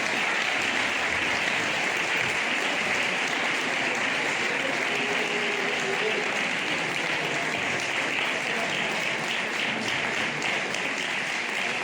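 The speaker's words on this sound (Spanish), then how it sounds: "Un aplauso fuerte para ellas." Loud, sustained applause from an audience at a village sports awards gala in Jarandilla de la Vera, holding at an even level throughout for the girls' team collecting their prize.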